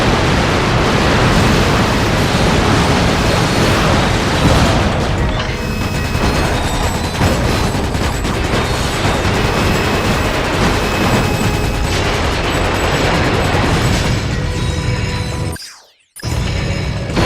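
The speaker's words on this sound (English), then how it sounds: "Explosions, the gunfire, the carnage." A dense, loud, continuous roar of blasts and crashing noise with rapid rattling machine-gun fire and plasma mortar, from Ratchet: Gladiator's Dreadzone arena combat, sustained throughout and cutting briefly to silence near the end.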